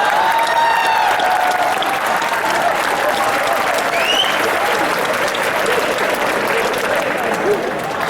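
An audience at a Hindi comic poetry show claps continuously and loudly throughout, a thick, unbroken wash of applause with faint whistles and crowd voices mixed in.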